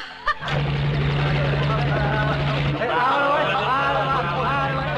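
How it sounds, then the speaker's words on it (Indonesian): A helicopter passes overhead, its loud steady rotor drone holding throughout, briefly under a sharp knock near the start and shifting in tone toward the end as it moves by. "Dan di saat bersamaan tiba-tiba ada helikopter lewat, semua penduduk pun bersembunyi."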